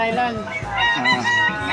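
Loud, nasal quacking and honking from ducks close by at a pet market, several overlapping calls in quick succession with no pauses.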